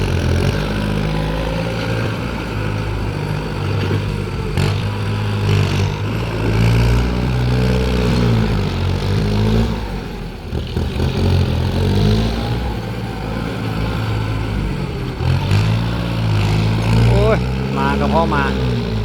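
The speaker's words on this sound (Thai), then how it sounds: "เอาบรรยากาศของรถไถปรับดินมาให้ทุกท่านได้เบิ่ง" A Kubota M-9540 tractor grades and pushes soil near Xaythany, Laos, its diesel engine droning steadily and close, with the pitch rising and falling as the load changes.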